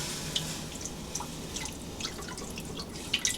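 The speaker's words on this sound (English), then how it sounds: "I'm pouring that 400 milliliters of water into the chamber" Tap water, 400 mL, poured into the chamber of a Tuttnauer autoclave under repair, heard as scattered light drips and small splashes falling irregularly, close and quiet, with no speech.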